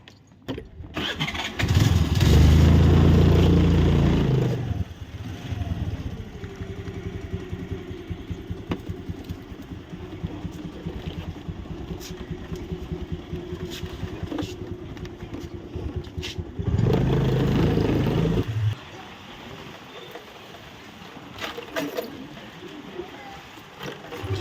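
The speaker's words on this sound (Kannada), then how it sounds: "ಗಾಡಿ ಆನ್ ಮಾಡಿಕೊಂಡು ಓನರ್ ಮನೆ ಹತ್ರ ಹೋಗ್ತಾ ಇದ್ದೀನಿ ಈಗ" Scooter engine started and running as the rider sets off toward a house, steady motor hum with louder surges near the start and again midway, close by.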